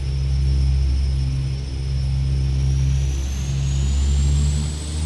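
Twin turboprop engines of a King Air B200 in the X-Plane 11 flight simulator, running up with brakes held and props at 2000 RPM; a steady loud droning hum with a rising high whine, continuous throughout.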